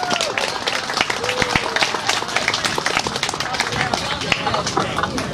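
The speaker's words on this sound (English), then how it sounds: "Y'all clap it up for Zeph." Congregation at a Seventh-day Adventist church service claps for a young violinist, a busy, loud patter of many hands with voices and crowd chatter mixed in throughout.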